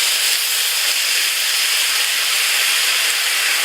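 Chinese rice wine hitting a hot pan of chicken for chicken satay, a steady loud broad hiss of steam and sizzle that holds evenly throughout with no pauses.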